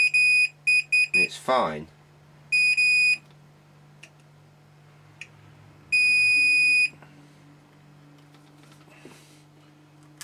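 Multimeter continuity tester beeping on a corroded circuit board inside a Sony ICF-PRO80 radio: a quick series of short, close beeps, then two sustained one-second tones, with someone talking in between.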